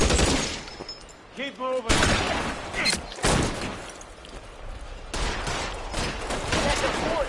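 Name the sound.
gunfire in video game L.A. Noire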